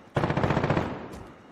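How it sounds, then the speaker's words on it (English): A sudden loud burst of rapid gunfire in Call of Duty: Modern Warfare Warzone, a dense rattling volley that fades out over about a second. "Hear the sounds of gunfire."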